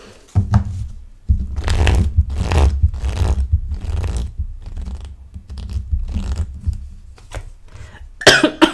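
A person close to the microphone coughs repeatedly in a long fit of harsh bursts, pausing briefly between them, with scraping and rustling noises in the background.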